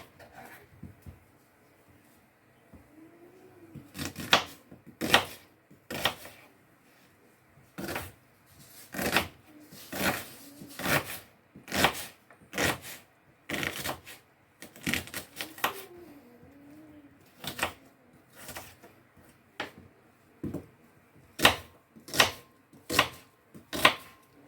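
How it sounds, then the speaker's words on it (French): Vegetables chopped on a board with a knife, a long series of crisp close knocks, irregular at first then settling into a steady rhythm, with soft scraping between strokes and no talk. "nous allons découper nos différents légumes"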